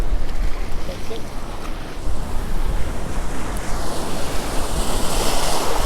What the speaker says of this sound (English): Just got to watch the wave activity here.